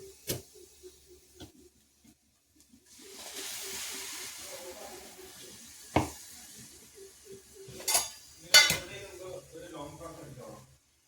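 Blended cashew and tomato paste goes into a pan with a few clinks of a utensil against metal, a soft sizzling hiss, and scraping stirs, while a person talks quietly between the kitchen sounds.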